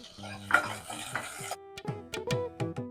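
Onion and green chili fry in a pan of hot oil after mustard seeds and fenugreek, with a soft sizzle, stirring scrapes, and several sharp clinks of a spoon against the pan. Nobody speaks.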